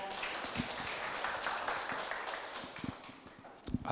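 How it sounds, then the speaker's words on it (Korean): An audience at a literary talk event gives sustained applause, a dense, steady wash of clapping at moderate level that thins slightly before a couple of louder bursts at the end. "큰 박수 부탁드립니다"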